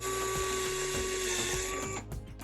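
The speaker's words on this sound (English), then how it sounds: "So I'm basically just going to drill my hole kind of through the side here" A power drill whines steadily at close range, its motor grinding through a plastic flower pot for about two seconds before stopping abruptly, followed by faint handling sounds.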